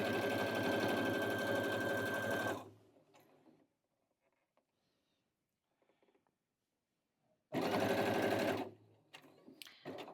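Sewing machine taking a few stitches on a baby quilt, a close steady whirring run that stops, a quiet gap with faint handling clicks, then a second short run.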